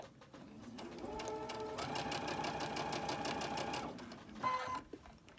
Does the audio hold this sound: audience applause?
no